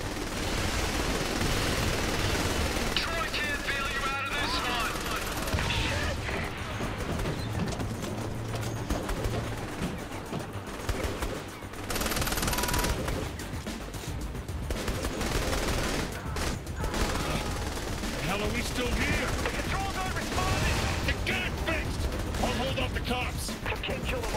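Gunfire in Saints Row: The Third Remastered, a dense, continuous stream of loud shots and bursts layered with game effects, music and intermittent character voices.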